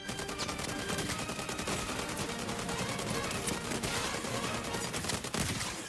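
Dense rapid gunfire from the video game Highguard, automatic bursts crackling continuously and fairly loud for several seconds with no talking.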